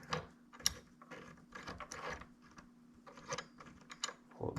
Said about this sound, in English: that bolt slides in there, goes all the way down as you can see